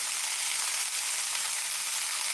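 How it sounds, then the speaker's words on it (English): Slider burgers fry in a pan with a steady, bright sizzle, close and continuous with no talk over it. "got that nice sizzle going"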